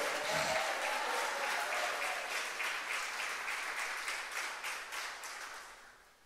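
A church congregation at a large religious congress breaks into loud, dense applause that starts at full strength and slowly fades over several seconds, with no voices over it.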